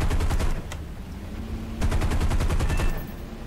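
Aircraft machine guns in War Thunder fire two rapid, rattling bursts, each under a second long, loud and close over a steady low engine drone.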